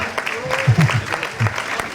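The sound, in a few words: audience applauding at fashion show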